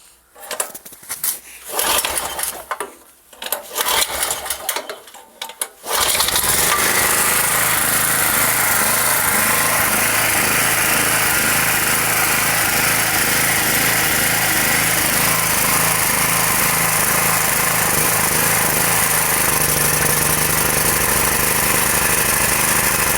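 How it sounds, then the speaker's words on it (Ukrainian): A petrol generator converted to run on mains methane gas in minus 13 frost starts after a few seconds of quieter rustling, then drones loud and steady with a buzzing engine hum that shifts slightly in tone near the end. "І зараз перевіримо, чи можливо запустити бензиновий генератор"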